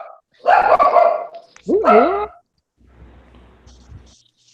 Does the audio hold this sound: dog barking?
yes